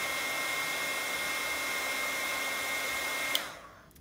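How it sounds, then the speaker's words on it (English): A heat tool blows hot air while heat-setting a bronze metal brad in a paper craft project: a steady, close whirring hiss that runs throughout, then switches off and fades out near the end. "So just simply heat set your brad."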